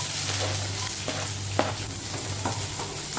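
Chopped onion and cumin frying in mustard oil, a steady close sizzle with faint stirring scrapes and a low hum underneath, no talking.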